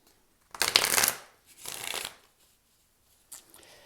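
Tarot cards are shuffled close by in three quick riffling bursts, with short pauses between them.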